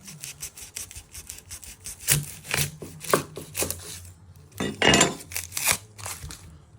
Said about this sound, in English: You're first going to chop your end off.